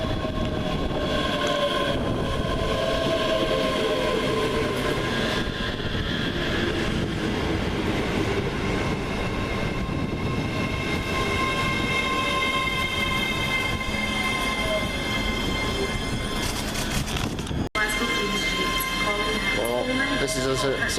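A train passes through Linlithgow station on a cold winter day, a loud sustained rumble of wheels and carriages with rising metallic whine and squeal, ending with a sharp clunk as the last cars go by.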